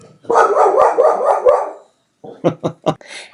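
A dog barks close and loud, first a rapid run of gruff barks, then after a short pause four sharp separate barks.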